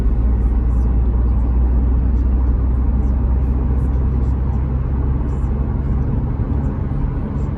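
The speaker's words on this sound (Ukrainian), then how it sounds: "Їдемо, ось ми їдемо на шостій передачі." An Opel Zafira cruising on a highway in sixth gear with cruise control on, heard from inside the cabin as a loud, steady engine drone and road rumble that continues without a break.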